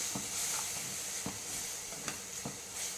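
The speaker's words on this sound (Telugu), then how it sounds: "టమాటో పచ్చిమిర్చి జీలకర్ర ఈ పేస్ట్ని వేసి బాగా ఫ్రై చేయాలి" A tomato, green chilli and cumin paste fries in a pan on a low flame, giving a steady close sizzle and hiss with a few soft stirring knocks spaced through it.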